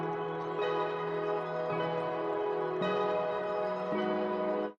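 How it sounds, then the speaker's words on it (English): Three layered piano sounds in a music production blend into sustained chords that shift every second or so, ringing and bell-like with a soft, continuous wash, no voices. "So going into the hook, I have three piano sounds."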